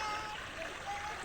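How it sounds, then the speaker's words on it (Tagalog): Fast-flowing stream of water rushing steadily under broadband noise, with splashy gurgles close by and faint voices in the background. "Bilis ang agos ng tubig."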